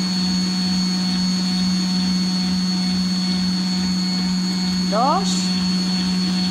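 An electric mixer whips cream at speed 6 under a splash lid, a steady loud motor drone running throughout with a brief clink near the end, while a person speaks over it.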